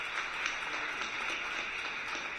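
Applause from an audience at an award ceremony during the BES EXPO 2016 inauguration, a steady, even wash of many hands clapping at moderate level with no voices over it.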